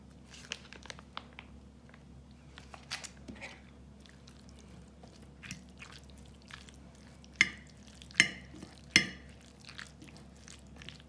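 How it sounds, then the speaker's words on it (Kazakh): Pineapple salad being mixed by hand with mayonnaise makes soft, wet squishing and crinkling close by, ending in a few louder, sharper squelches. "Енді қазір осыны араластырамыз әбден қолмен."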